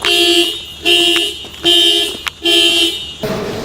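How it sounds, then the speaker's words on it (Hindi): A car alarm sounding at night, a loud nearby electronic tone pulsing in repeated bursts with short gaps, then shifting to a different rasping pattern at the end. "पूरी रात हर थोड़ी देर बाद गाड़ी अलार्म दे रही"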